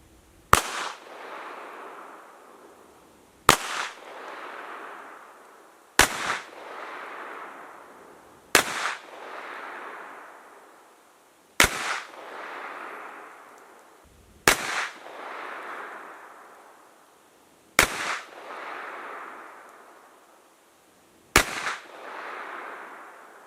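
A handgun firing 124 grain Blazer brass ammunition at a range cracks out eight loud, evenly spaced shots, each followed by a short echoing decay, about three seconds apart.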